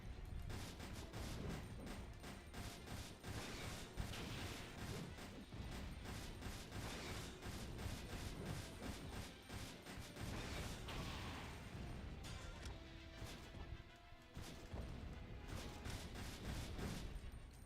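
In a video game a machine gun rattles in continuous rapid bursts, dense fast repeated shots with mechanical clatter that run almost unbroken and pause only briefly now and then.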